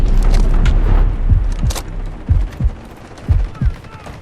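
Battle noise in the video game Delta Force Hawk Ops, with loud automatic gunfire in the opening seconds, then a series of deep booming shots and impacts that fade off, no talk over them.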